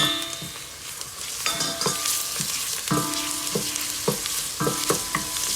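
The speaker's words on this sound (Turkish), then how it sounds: "Evet şimdi kıymamı ilave ediyorum." Ground meat sizzling in a pan with lightly sweated onions for a green bean dish, with a utensil stirring and scraping against the pan in repeated, close knocks over the steady frying hiss; no talking.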